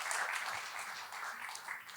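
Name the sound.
audience applause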